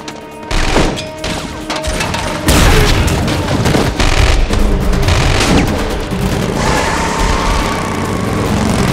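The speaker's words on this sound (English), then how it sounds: "Lay suppression fire!" A movie chase scene with loud, dense machine-gun suppression fire aimed at a helicopter. Heavy booming bursts blend with roaring engine and action noise across the whole stretch, and there is no clear speech.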